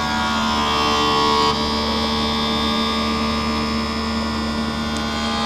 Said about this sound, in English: the wheels start spinning and the lens is going to drop down onto the cutting wheel